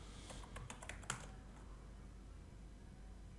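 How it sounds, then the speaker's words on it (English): Rapid keystrokes on a computer keyboard, a quick burst of clicky taps in the first second or so, then quiet room tone. "press Windows and R key to launch the run application and type services"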